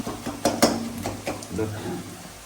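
Onions frying with masala in a pot, a soft sizzle broken by several sharp scrapes and clinks of a spoon stirring against the metal, close by and fairly quiet.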